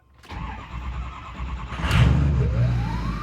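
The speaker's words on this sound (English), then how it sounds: "let's fire this whole thing up and let's take her on our first drive" A built Ford 6.0 Powerstroke diesel truck engine cranks and fires up close by, then settles into a loud, rumbling idle with a rising whine.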